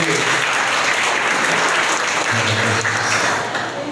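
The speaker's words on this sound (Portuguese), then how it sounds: "E as palmas ao Cordeiro de Deus." A church congregation claps and applauds together at a missions worship service, a steady, loud wash of dense clapping filling the room throughout.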